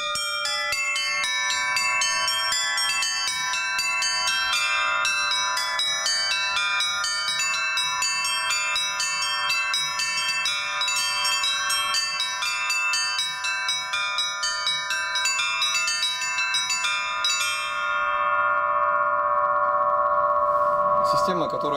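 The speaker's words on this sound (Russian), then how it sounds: "зазвонные колокола из таких фоновых, трельных превращаются в мелодические" Russian church bells from the Litex foundry in Moscow or the N. Shuvalov foundry in Tutaev ring out distinct single notes in a steady pattern over about twenty seconds, clear and resonant, before the ringing stops and fades.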